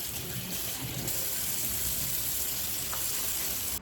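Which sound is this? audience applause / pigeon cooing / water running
water running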